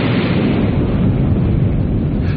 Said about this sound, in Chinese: 中国又实现了用飞机空投氢弹爆炸成功